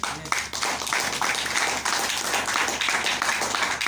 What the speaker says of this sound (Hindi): इन लोगों के लिए जोरदार ताली होनी चाहिए